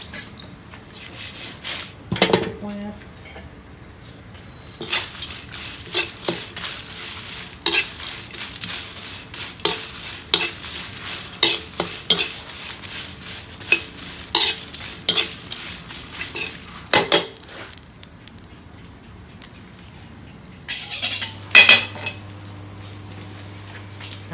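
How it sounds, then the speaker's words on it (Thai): Chilies dry-roast in a pan for Thai galangal chili paste, heard as repeated scraping and stirring strokes of a utensil against the pan with a faint sizzle, in irregular bursts, close up. "อันนี้นะครับคือนี่จะคั่วพริกนะครับ"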